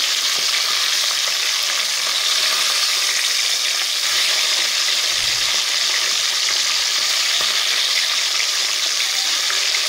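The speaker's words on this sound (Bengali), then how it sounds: "তো দেখো এক সাইড লাল লাল করে ভাজা হয়ে গেছে। তো হালকা হাতে আমি উল্টে দেব" Pieces of katla fish fry loudly in hot oil, a dense, steady crackling hiss that runs unbroken and close throughout, with no voices.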